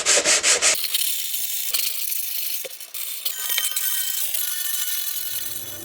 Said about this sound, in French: Donc maintenant, nettoyage de la caisse, tout simplement. Petit ponçage.